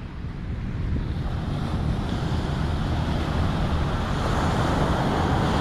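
Sea waves wash steadily onto Hòn Chồng beach in Nha Trang, a continuous broad surf roar with wind buffeting the microphone throughout, no talking.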